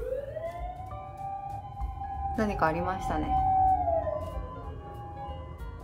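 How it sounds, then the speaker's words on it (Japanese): Sirens from an ambulance and a fire engine wail in the distance, rising and falling tones that swell and shift as the vehicles pass, while someone talks briefly nearby. "救急車の音と消防車の音がしてるから、救急車消防車2台"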